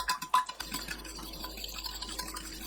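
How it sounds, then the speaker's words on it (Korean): Five eggs being mixed in a microwave-safe bowl with kelp stock, fine salt and anchovy fish sauce, giving faint, soft stirring and liquid sloshing with a small clink near the start, steady and quiet throughout. "계란 5개, 다시마 우린물 140ml, 고운 소금 반큰술, 멸치액젓 1큰술 넣고 섞어주세요."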